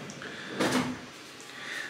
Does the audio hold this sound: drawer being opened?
yes